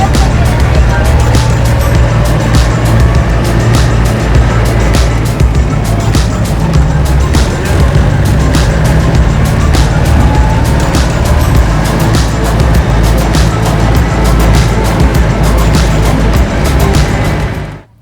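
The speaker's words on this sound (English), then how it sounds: "me and Wyatt have been driving around in this wonderful golf cart that Mark let us borrow" A borrowed diesel golf cart drives along steadily, with a loud, constant engine drone and road rumble that run unbroken for the whole stretch and then cut off abruptly. There is no talk over it.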